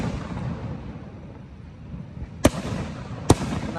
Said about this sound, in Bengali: Niagara night view fire works